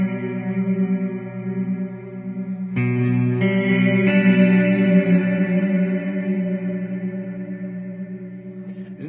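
Sustained guitar notes and chords ring out with heavy reverb and echo, tones washing and trailing into each other, with a fresh chord entering partway.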